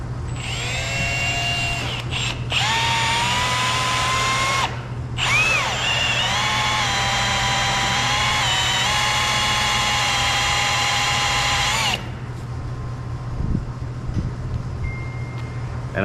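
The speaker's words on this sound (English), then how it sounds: "we're just gonna drill and tap right here for our grease fitting" A power drill boring and tapping a hole for a grease fitting during line boring work, with a loud close whine that runs in bursts, briefly pausing and revving again before cutting off, over a steady low hum.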